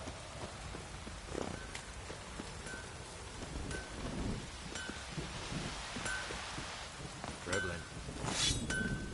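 Heavy rain pours steadily in The Witcher 3, a dense, continuous hiss with occasional faint clinks and a distant low rumble underneath.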